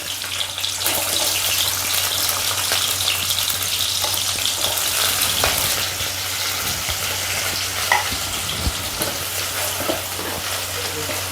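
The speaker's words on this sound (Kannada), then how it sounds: "ಇವಾಗ ಎಣ್ಣೆ ಕಾದಿದ್ದೆ, ಈರುಳ್ಳಿ ಹಾಕ್ಕೋತಾ ಇದ್ದೀನಿ." Onions fry in hot oil in a pan, giving a steady, close sizzle with occasional crackles and stirring scrapes, continuous throughout with no talking.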